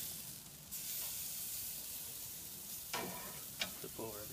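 Cauliflower seasoned with olive oil, salt and pepper is turned over on a grill, giving a quiet, steady sizzling hiss with a few brief louder crackles near the end.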